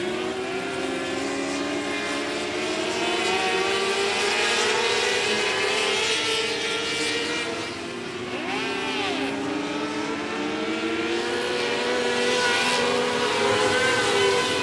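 Race cars roaring around the 105 Speedway oval during a regular race program, a loud sustained engine drone with rising and falling pitches as cars pass close by, a steady pack of racing engines with no talk.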